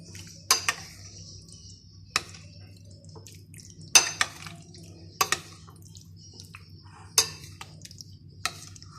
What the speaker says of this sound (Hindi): और इसको भी अच्छे से मिक्स कर लेंगे।